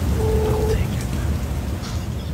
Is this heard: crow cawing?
no